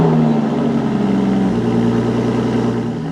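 An Aston Martin V12 Vantage engine with its secondary catalytic converters removed idles loudly and steadily nearby, a deep continuous drone with a slight pitch drop partway through.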